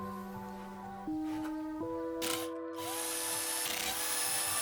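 A power tool backs T20 screws out of the console of a BMW E92 M3, whining in stepped rising pitches, with a brief rattling burst in the middle and continued tool whine afterward.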